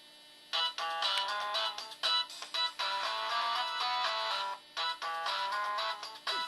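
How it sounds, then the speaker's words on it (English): A cell phone rings with a bright, electronic melodic ringtone, repeating bursts of tones with short gaps, loud and close, heard alone without speech. "It's my cell phone."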